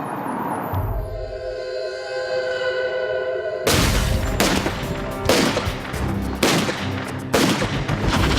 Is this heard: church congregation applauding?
no